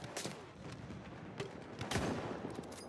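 Distant bursts of machine gun fire in the Battlefield 1 video game, faint and quiet with several sharp cracks spread through a brief stretch of battlefield ambience.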